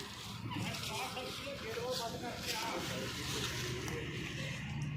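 A large engine driving a sugarcane crusher at an outdoor jaggery-making site, running with a steady low mechanical drone and rumble under a voice talking.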